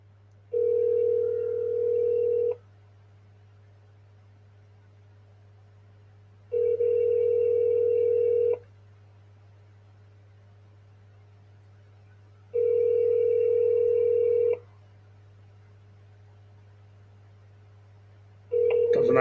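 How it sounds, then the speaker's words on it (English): An outgoing telephone call rings back in long, even tone bursts, each about two seconds, repeating four times with silent stretches between, clear and steady over a low hum. "I'm going to call this guy. He probably won't answer."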